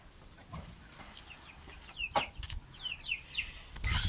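Backyard hens cluck in short, scattered bursts with a few sharper squawks, fairly close amid rustling and faint ambient noise, no talk.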